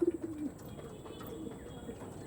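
A pigeon gives a short, soft coo at the start, then only quiet background hiss remains.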